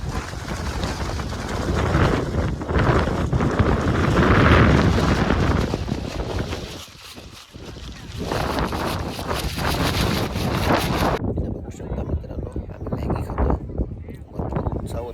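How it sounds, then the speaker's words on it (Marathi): Strong wind and rain sweep through a monsoon forest near waterfalls, a loud, continuous buffeting roar that dips briefly midway and thins near the end, with a voice faintly present at times. "भरपूर वारा पाऊस आहे"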